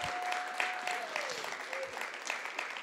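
Audience at a Sundance 2024 panel in Park City clapping steadily, a dense continuous patter of hands filling the room, with a faint whistle-like tone early on.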